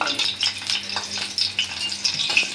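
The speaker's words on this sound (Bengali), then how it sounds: "শুকনো মরিচটা আগে একটু ভাজে নিব" Dry red chillies fry close up in a pan, making a continuous crackling sizzle broken by the light scrape of stirring, with no talk over it.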